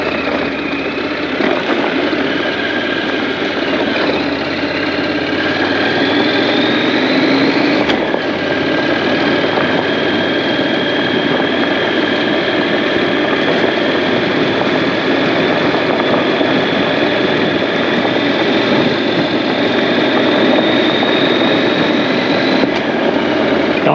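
Honda NC700X motorcycle engine running steadily on a road ride, a continuous loud drone with rising pitch sweeps as it accelerates through the gears, wind noise mixed in throughout.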